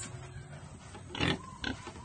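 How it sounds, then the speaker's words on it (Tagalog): Pigs grunt and oink at feeding time on a farm pen, a few close snorting calls breaking over a faint low background. "So, sa pagpapakain ng baboy, walang arti-artihan ito, ha?"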